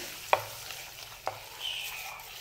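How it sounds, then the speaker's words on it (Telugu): A spoon clinks twice against a bowl while stirring, with faint background hiss and no voices. "తాలింపుని చట్నీలో వేసేసుకుందాం. ఇలా కలుపుకుందామండి."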